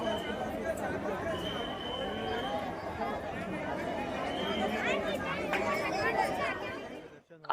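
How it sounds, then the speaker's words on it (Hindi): Dense crowd chatter outside the Mahakaleshwar temple in Ujjain: many voices blend into a continuous, fairly close babble with footsteps and movement, then cut off abruptly at the end. "मंदिर के बाहर की भीड़"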